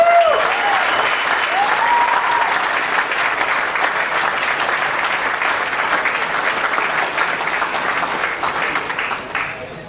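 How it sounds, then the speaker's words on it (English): Sustained audience applause at a Canadian national pulling championship awards ceremony, a dense wash of many hands clapping steadily for about ten seconds, with a voice faintly audible near the start before the applause tapers slightly at the end. "give a big round of applause to Silvio Borg"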